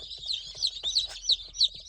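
Corn-fed free-range fattening chickens on a farm, a close, busy flock of high clucks and chirps overlapping in quick irregular bursts.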